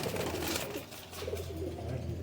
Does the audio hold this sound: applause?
no